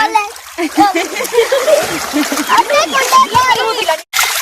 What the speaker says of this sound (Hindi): पानी डालो इसके ऊपर,